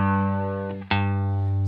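A sustained guitar note on G with a light reverb effect rings steadily, with a brief dip and re-attack partway through before the tone carries on alone.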